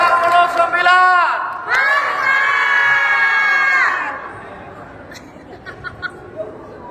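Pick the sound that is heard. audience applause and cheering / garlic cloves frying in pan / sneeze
audience applause and cheering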